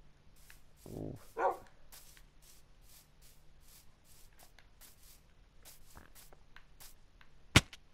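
Dogs in the Minecraft PS4 game give a short muffled bark burst early on, followed by a few faint shuffling clicks and one sharp snap near the end, over quiet background.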